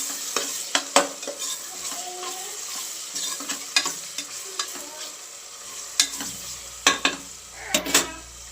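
Tomatoes, onions and chillies fry in oil in a pan, a steady close sizzle broken by sharp scraping stirs and clinks of a spoon against the pan, with no voices.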